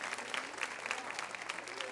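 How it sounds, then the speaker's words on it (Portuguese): A church congregation applauds during a worship service: soft, continuous crowd clapping heard at a distance, with voices talking over it. "Aplauda o Senhor pela vida dessa querida aí do teu lado."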